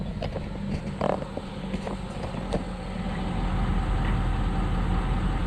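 A log truck rumbles at a farm loading site at Hollis Farms, its diesel engine idling in a steady low drone that grows slightly louder and fuller toward the end, with scattered knocks and clanks near the start.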